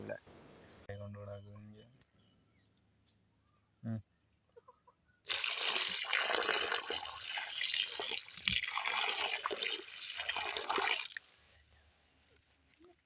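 Running water rinses freshly cut fish for a traditional Sri Lankan fish curry, a loud, steady broadband splashing that lasts several seconds after quieter kitchen clatter.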